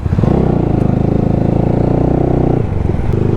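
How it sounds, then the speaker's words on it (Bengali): A Yamaha R15 V3's modified exhaust drones steadily and loudly up close as the bike rides along, with a brief dip in the engine note near the end. "যখন আমি বাইকটা রাইড করতেছি তখন এগজস্টের সাউন্ডটা অনেকটাই কম বোঝা যাচ্ছে"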